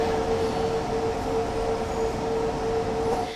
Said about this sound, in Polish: ta lokomotywa aż podskakuje tutaj na tych torach